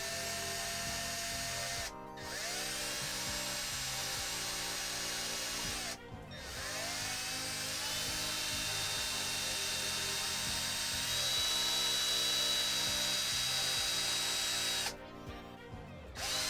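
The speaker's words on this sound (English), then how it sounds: "For this, I just use a simple burr." A 3D-printed part being deburred with a simple burr tool gives a continuous high whirring drone. It is close and steady, breaking off briefly three times before resuming, with no voices.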